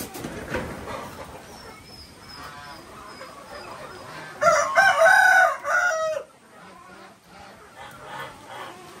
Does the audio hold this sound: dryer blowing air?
no